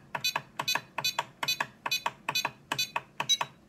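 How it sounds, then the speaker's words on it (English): The electronic trim switch on a RadioLink AT10ii RC transmitter gives about eight evenly spaced pairs of short, crisp beeps, close and clear in an otherwise quiet room. "It'll give you a different beep when you find center"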